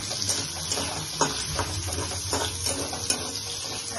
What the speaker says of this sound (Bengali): টমেটোগুলোকে এভাবে ফ্রাই করে নিচ্ছি